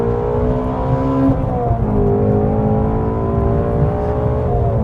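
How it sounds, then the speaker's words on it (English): A loud sports car engine, from a 2020 Toyota Supra GR or Ford Mustang Shelby GT350, revs hard and steadily, its rising harmonic whine holding strong throughout, with a brief dip as the throttle shifts. "we're gonna do the throttle punch one more time"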